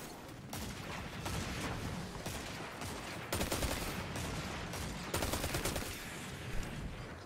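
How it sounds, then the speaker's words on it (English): An Iron Banner auto rifle fires in a video game, rapid bursts running almost without a break over dense, loud, continuous action noise. "I think it's the um, Iron Banner auto rifle."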